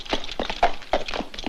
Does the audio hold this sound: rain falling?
no